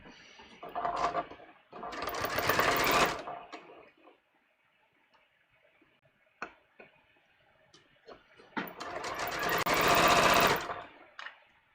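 A sewing machine stitches a garment side seam in two loud bursts separated by a pause filled with faint ticks and handling clicks.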